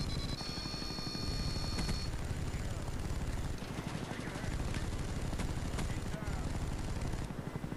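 Helicopter gunship in Call of Duty Black Ops, a steady chopping rotor thud under rapid bursts of gunfire, fairly quiet and continuous, with a voice talking over it.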